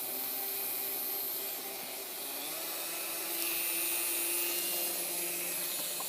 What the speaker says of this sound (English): I had the hand attachment on a Dremel, and I have it hanging here.